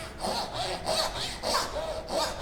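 Hand saw cutting dovetail joints in wood for a book stand, with steady back-and-forth strokes, about five rasping passes in quick even rhythm, close and clear with no talk.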